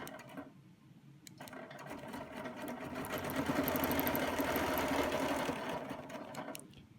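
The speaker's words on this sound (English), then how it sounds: "we're gonna stitch over enough out of the way to get my 3-inch" A sewing machine stitches an all-over Baptist fan quilting design, a steady rapid mechanical whir that speeds up to a loud sustained run mid-stitch before slowing again, close and alone.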